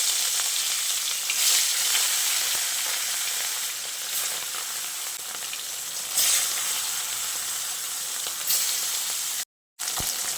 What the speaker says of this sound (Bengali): সেই মাছগুলো কড়াইয়ে দিয়ে ভেজে নেব।